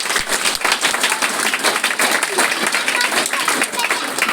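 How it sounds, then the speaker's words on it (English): A school audience claps for performers after a cultural dance competition, steady dense applause across the whole stretch, with voices mixed in underneath. "Let us give good round of applause for ourselves, for yourself."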